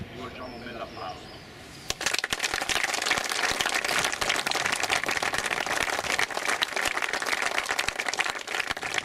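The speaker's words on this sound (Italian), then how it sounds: "al quale rivolgiamo un bel applauso" After a quiet start, a crowd breaks into sustained, dense applause for Colonel Porqueddu at a Brigata Sassari military promotion ceremony, steady and close for the rest of the clip.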